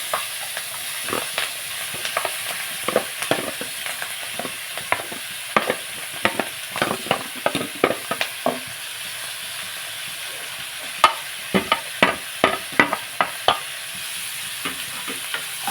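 Green chillies and onions fry in oil with a constant sizzle, while repeated quick scraping strokes of a spoon against the pan come close and loud, steady at first and then spaced out.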